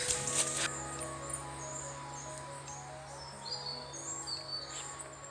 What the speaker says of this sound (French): Vous les entendez? Les petits oiseaux.